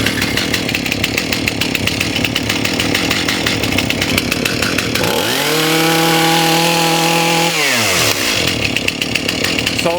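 A STIHL MS291 chainsaw runs loud and close throughout while its carburetor is adjusted; its steady running note climbs sharply into a high rev for a few seconds, holds, then drops back down.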